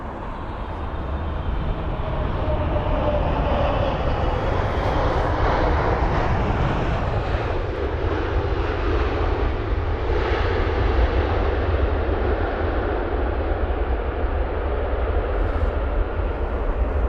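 A Boeing 777-300 airliner arriving at London Heathrow, its jet engines a constant broad roar that fills the air from start to finish with no talk over it.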